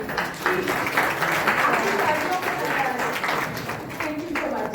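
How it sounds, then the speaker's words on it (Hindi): An audience at an honour ceremony for couples claps in a sustained round of applause, dense and steady, with a voice speaking faintly over it. "आप अपने लिए तालियां बजाइए"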